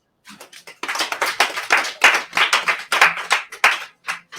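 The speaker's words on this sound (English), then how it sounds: "I want you guys to clap for Nabia" An audience claps for staff member Nabia Sar in a series of short, loud, rhythmic bursts of hands close to the microphone, with brief pauses between the volleys.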